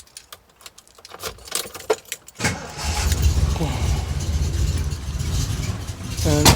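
An MGB GT classic car engine cranks, catches and settles into a rough, rumbling idle. Scattered clicks and key jangles come first, and a voice briefly talks over the running engine.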